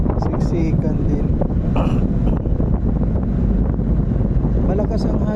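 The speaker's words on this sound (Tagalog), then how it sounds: "Malakas ang hangin dito sa kuwan." Strong wind buffets the microphone on a fast-moving ship, a loud, constant low roar with gusty rumbling, while a person talks over it.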